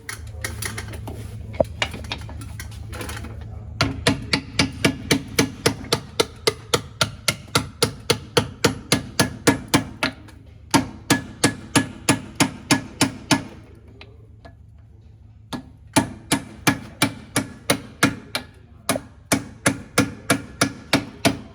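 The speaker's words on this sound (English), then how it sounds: "Drive the bushing in and then drive the seal in." Steady hammer blows drive a new S-cam bushing and seal into the brake assembly of an MCI MC12 bus, a long run of sharp, evenly spaced metallic strikes with brief pauses between bursts, close and loud with no talking.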